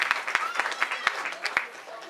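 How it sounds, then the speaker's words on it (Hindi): A few distinct, sharp hand claps ring out at a play school event, spaced irregularly and fairly faint, with a murmur of voices underneath as the audience responds. "राजकमल के लिए जरा एक बार जोरदार तालियां दीजिए"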